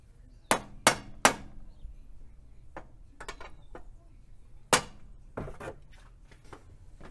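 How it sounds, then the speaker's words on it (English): A hammer strikes the side of a Toyota 1GR-FE water pump in sharp metallic blows: a quick burst of three, then scattered lighter taps and another strike with a short follow-up cluster, all close and loud. "I had to get a pry bar and a hammer and hit the side of it."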